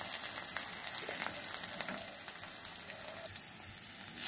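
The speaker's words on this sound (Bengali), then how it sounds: "এই দেখো শুকনো লঙ্কাটা ফোড়ন দিয়ে দিলাম, নেড়ে দিলাম" Dry red chillies tempering in hot oil, a faint continuous crackling sizzle with a few light stirring scrapes, heard at some distance and with no talk.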